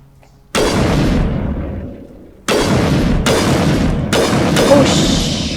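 High explosive grenades detonate in the video game Mass Effect, with loud close booms: one blast with a long rumbling decay, then a rapid series of three more bursts.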